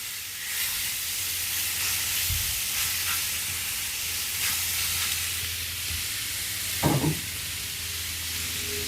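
Fajita meat dumped into hot oil in a pan sears with a steady loud broad sizzle and hiss, a few brief scrapes and clunks breaking through near the end.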